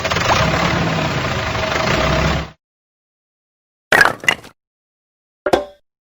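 A tractor engine idles with a steady, loud rumble for about two and a half seconds, then cuts to silence, broken by a few sharp clicks and taps.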